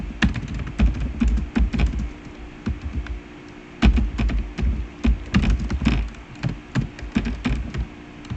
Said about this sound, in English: So let's type it down first